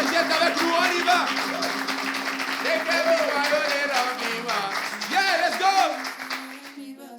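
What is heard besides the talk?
audience applause welcoming a performer on stage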